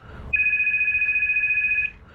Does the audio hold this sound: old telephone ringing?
yes